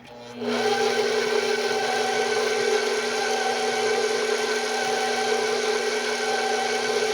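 An electric mixer running on its first, lowest speed through pound cake batter, starting up after a brief pause and then holding a steady, close motor whine with no voices.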